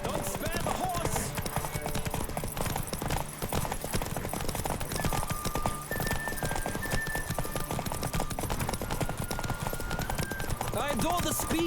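Hooves of a racing horse in The Witcher 3 beat in quick, continuous gallops, close and prominent, with brief rider shouts and background game music.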